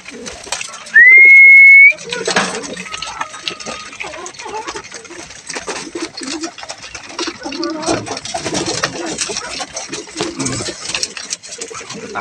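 Racing pigeons coo and rustle close by amid steady background noise, with a brief high whistle near the start.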